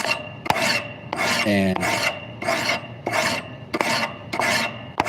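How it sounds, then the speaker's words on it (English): A file rasps across a blade edge to smooth it in about nine steady, evenly spaced strokes, close and crisp, with a brief word spoken midway. "And then you take your file or sandpaper or stones"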